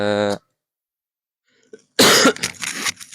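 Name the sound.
cough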